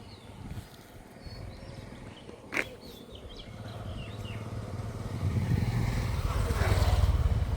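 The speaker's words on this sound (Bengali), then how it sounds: "বাইকে আসছে" A motorbike approaches along a rural road, its engine rumble low at first and building steadily louder over the last few seconds, with a brief sharp knock partway through.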